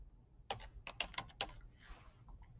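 Typing on a computer keyboard while searching online, a quick run of crisp close key clicks in short bursts followed by a few lighter, softer taps.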